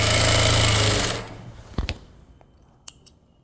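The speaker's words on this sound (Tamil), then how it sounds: "அடுத்து இந்த சைடும் அதே மாதிரி 3 தையல் போட்டுடுவோம்." Sewing machine stitching a blouse: a steady, loud mechanical whirr for about a second, then stopping, followed by a few sharp clicks and snips from working the fabric.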